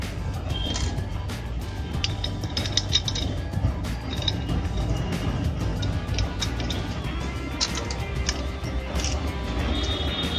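Bolts and washers being fitted by hand while an inverter motherboard is replaced, producing small metallic clicks, taps and ratcheting rattles, irregular and close, with a low background hum and no speech.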